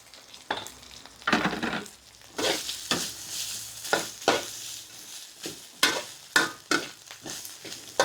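Whole black peppercorns dry roasted in a pan while cooking braised pork leg, giving a rhythmic run of scraping, rattling stir strokes with soft sizzle between them, close and moderately loud, with no talking.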